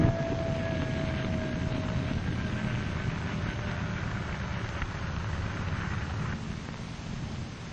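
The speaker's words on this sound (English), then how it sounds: "the ground control officer at the edge of the flight strip, who lands the pilotless aircraft" A pilotless drone aircraft comes in to land on a flight strip during the 1946 Operation Crossroads tests, heard as a steady, loud engine roar with wind noise that holds throughout and fades slightly at the end.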